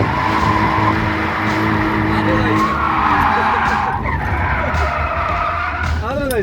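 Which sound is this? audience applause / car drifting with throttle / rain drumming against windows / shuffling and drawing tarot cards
car drifting with throttle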